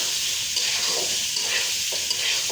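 Hog plums (amra) stir-fried in a hot pan give a steady, close, bright sizzle, with soft stirring scrapes rising and falling throughout. No one speaks.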